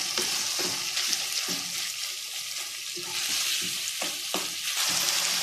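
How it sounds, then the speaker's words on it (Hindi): Mutton keema frying in a pan with chillies, ginger and sliced lemon, a steady close sizzle broken by periodic scraping stirs, with no talk. "अब हम इसको अच्छे से 5 से 7 मिनट के लिए भून लेंगे।"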